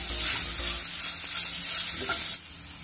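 Spice paste for vada pav potato filling, fried in a pan with ajwain and salt, sizzles steadily and close while a spoon scrapes and stirs through it, then the sizzle drops off abruptly near the end.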